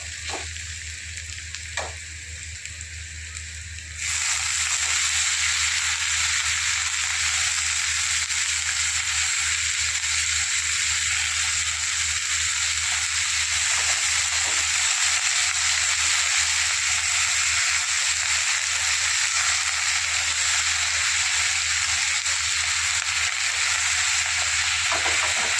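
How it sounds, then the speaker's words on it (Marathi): Fenugreek leaves hit a pan of sautéing potatoes and set off a loud, steady sizzle that starts a few seconds in and continues unbroken, with occasional stirring scrapes. "आता आपण मेथीची भाजी टाकून घेणार आहोत."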